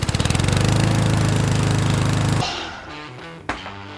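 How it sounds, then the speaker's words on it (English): A miter saw cuts a 30-degree angle in wood with a loud, pulsing motor roar, then spins down after a couple of seconds, followed by a sharp clack near the end. "So meet me at the miter saw. So we're going to go ahead and cut a 30-degree angle on this very side here."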